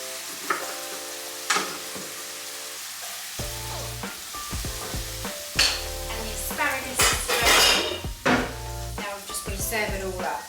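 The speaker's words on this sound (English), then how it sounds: "The asparagus is going to go in now. I want the shiitake mushrooms to go in there." Asparagus and shiitake mushrooms fry in a hot pan with a vinegar glaze, giving steady sizzling with scraping stirs and clinks of utensils against the pan, close and moderately loud with no talking.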